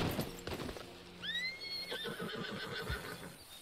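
A horse in Red Dead Redemption 2 lets out a clear whinny that rises and wavers, with hooves clopping nearby, close and fairly loud.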